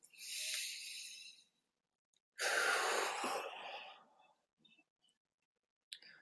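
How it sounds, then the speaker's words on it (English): Two deep breaths close up: a long inhale of about a second and a half, a pause, then a longer, fuller exhale-like breath of nearly two seconds, followed by quiet with a few tiny clicks. "Take a deep breath."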